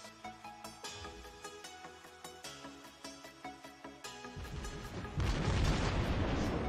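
Heavy naval gun salvos from the battleship HMS Conqueror in World of Warships, a steady run of deep booming shots roughly every half second, swelling into a louder sustained rumble of blasts near the end.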